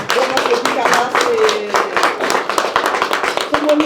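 Audience at a Paris press cocktail honoring an orchestra clapping, distinct individual claps in an uneven rhythm under a nearby voice speaking over them.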